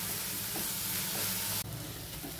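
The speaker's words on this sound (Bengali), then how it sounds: "এবার মশলাটা 2-3 মিনিট ভালো করে কষিয়ে নিতে হবে।" Spice masala for rajma masala is fried and stirred in hot oil, producing a loud, steady, close-up sizzle that shifts abruptly in texture partway through.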